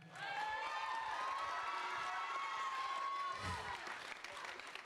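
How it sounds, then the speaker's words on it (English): Audience applause fills the room after a school band's holiday concert, steady and sustained with some cheering and tonal ringing on top, easing slightly toward the end. "I want to give a special round of applause to our drum set player, Will Love."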